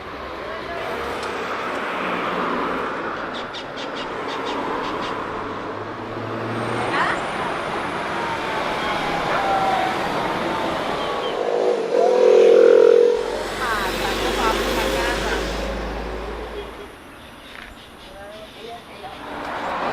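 Road traffic rolls past a bus stop in Costa Rica, with cars and buses passing nearby, a loud rumbling pass building around the middle and engines revving, while people talk intermittently underneath.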